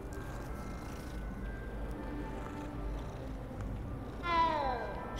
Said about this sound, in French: Oh, chat! Petit chat.